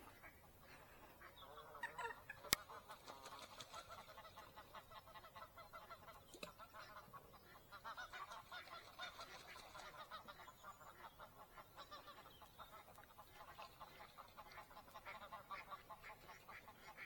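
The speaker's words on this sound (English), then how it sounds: "Canada geese are doing their thing," Canada geese honking in the open, a faint, distant chorus of repeated honks and calls spread across the whole stretch, with occasional louder nearer bursts.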